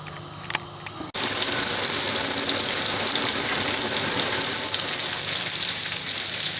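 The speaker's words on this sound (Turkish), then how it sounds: "Evet balıklarımızı kızartıyoruz" After a brief quiet moment, a loud, steady sizzle of common pandora (mercan) fish frying in hot oil starts abruptly and continues without pause.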